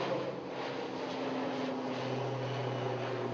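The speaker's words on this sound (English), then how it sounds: "We're also in the flight path of the airport, as you can hear" Low, steady drone of an aircraft passing overhead on an airport flight path above bushland, a continuous engine rumble with a slowly shifting pitch, fairly distant, without speech.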